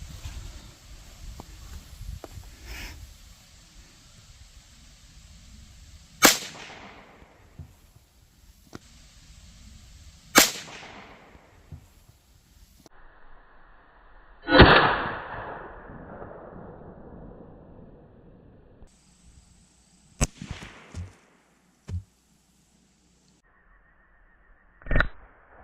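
Sharp .22 Magnum rifle shots strike watermelons outdoors, several separate loud cracks spaced seconds apart, some followed by a brief splattering burst, with quiet gaps between.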